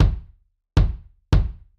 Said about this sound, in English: is the sound of the kick, right?